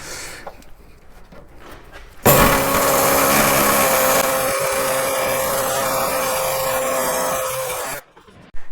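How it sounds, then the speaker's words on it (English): An air saw cuts off a seized nut on a Morris Minor, a loud, continuous buzzing rasp that starts abruptly, holds for about six seconds close up, and then cuts out. "So, trusty air saw."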